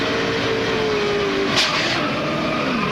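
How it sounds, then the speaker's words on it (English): NASCAR race car at the 2002 Daytona 500: a loud, close engine roar with falling pitch as it enters a corner, a sharp burst near the middle, then a rising rev as the car spins. "Listen to the engine."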